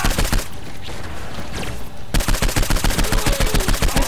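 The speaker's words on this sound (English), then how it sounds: "Someone's shooting me, Justin!" Loud, close gunfire in the video game Saints Row IV: a quick volley, a short pause, then dense, rapid automatic bursts crackling continuously.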